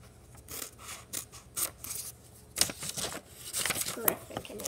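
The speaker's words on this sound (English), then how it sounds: "So, yeah, I'm gonna cut mine out here." Scissors snip through a paper craft shape for a doll project in a quick, irregular series of close, crisp cuts with rustling paper between them, and a few louder snips toward the end.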